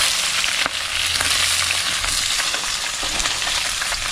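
Mushrooms sizzle steadily in hot cooking oil in a pan with garlic and ginger, a continuous close frying hiss with faint crackles and no talk.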